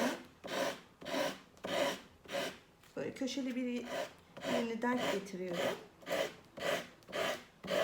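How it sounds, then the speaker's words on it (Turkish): Sandpaper rasps along the edge of decoupage paper in rhythmic back-and-forth strokes, close and fairly quiet, pausing mid-way while someone speaks before the strokes resume. "Şimdi zımpara ile kesmeyi göstereceğim"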